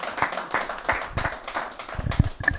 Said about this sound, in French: Si on peut juste applaudir pour Seb qui m'a